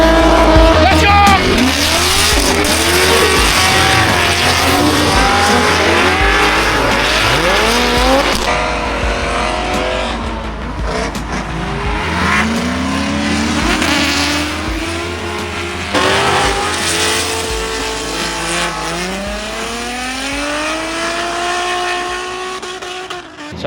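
A car drifts at Homestead-Miami Speedway during a street-racing drift event, its engine revving hard and rising and falling while tires squeal in long, sweeping screeches, loud and close, with repeated bursts throughout.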